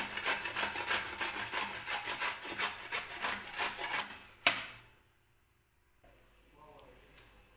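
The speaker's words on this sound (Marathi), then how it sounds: "ओलं खोबरं जे आहे ते खिसणीने खिसून घेतले मी" Fresh coconut rubbed against a hand grater in a home kitchen, a run of quick rhythmic rasping strokes that ends in a sharp knock, followed by near silence and faint rustling.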